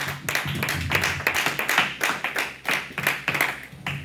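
A church congregation at a conference in Paris claps in praise of Jesus, a lively run of repeated hand claps in a steady rhythm, loud and close, with no talking over it.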